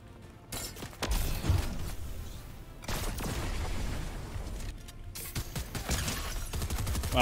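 Shotgun blasts in the video game Fortnite sound as loud, close bursts with short gaps, a heavy volley near the start and more clustered blasts later, set against game noise and no voices.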